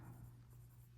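A pen scratches steadily across paper, a faint continuous scribbling close by, with no talking over it.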